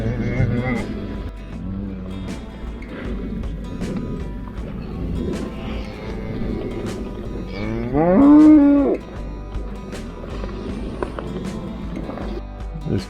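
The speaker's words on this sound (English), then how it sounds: "cow's getting frisky with the dogs, kicking at them, bucking, carrying on" A cow lets out a loud, rising moo partway through, close by, while other farm sounds and a dog's agitation fill the background during a motorcycle camping stop.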